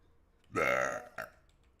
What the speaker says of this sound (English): I can still burp like I used to